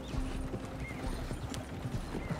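Horse hooves clip-clopping in Red Dead Redemption 2, a steady run of close hoofbeats over a low rumble with a faint whinny mixed in and no talking.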